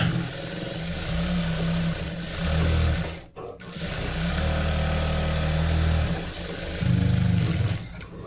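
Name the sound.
sewing machine stitching a blouse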